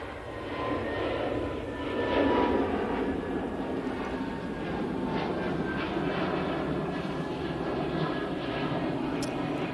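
An easyJet jet airliner departs Manchester Airport, its engines a steady, loud broadband roar that swells slightly around the second or third second and holds strongly throughout.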